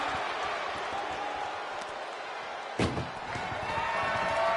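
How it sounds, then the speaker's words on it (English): A single heavy metal door slams shut on an ambulance in a WWE wrestling video game, one sharp loud bang over a steady roar of arena crowd noise. "Trying to force the first door closed."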